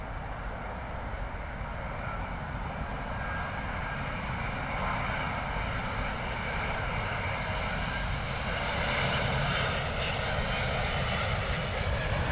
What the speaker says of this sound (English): Love the British Airways A350